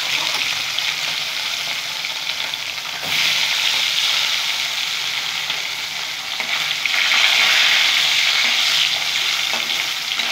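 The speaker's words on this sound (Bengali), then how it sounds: "এইভাবে আমি মাছগুলো ভেজে নেব" Small turmeric-coated fish frying in oil in a pan, a loud continuous close sizzle that swells twice over several seconds, with no talking.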